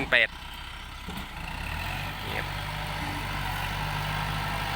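A Kubota L5018 tractor engine runs steadily throughout with a low, continuous drone. A brief louder burst comes at the start, and faint outdoor sounds sit over it.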